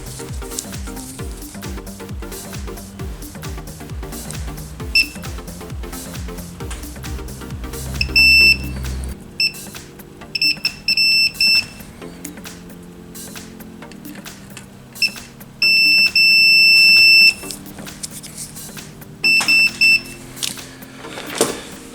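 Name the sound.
multimeter continuity test beeping on pinball DMD board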